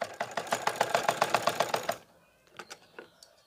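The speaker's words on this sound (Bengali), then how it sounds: "এখানে আস্তে আস্তে সেলাইটা আপনারা দিয়ে নেবেন, আবার একটা করে ধরবেন, ধরার পর এখান থেকে আবার একটা করে সেলাই আপনি দিয়ে নেবেন" Sewing machine stitching pleats into fabric, a fast run of evenly spaced mechanical stitch clatters for about two seconds, then stopping with a few faint scattered knocks afterward.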